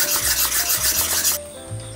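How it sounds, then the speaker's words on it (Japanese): Machete and sickle blades ground on a 1000-grit whetstone, steady back-and-forth scraping strokes in a regular rhythm, close and loud, stopping abruptly near the end with no talking. "じゃあ次は千番台でね、削っていきます。"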